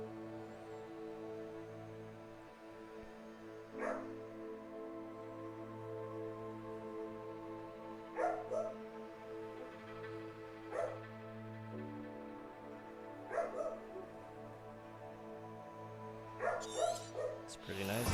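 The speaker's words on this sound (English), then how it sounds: "Sorry about my dog, everybody." A pet dog barking indoors in scattered single barks and short pairs spread across the stretch, fairly close and moderately loud, over steady background music with little talk.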